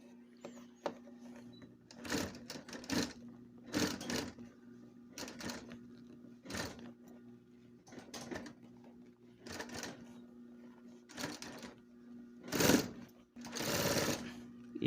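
Sewing machine stitching piping onto a fabric backpack bag, running in repeated short bursts with pauses between as the bag is turned, close and fairly loud, with no talking.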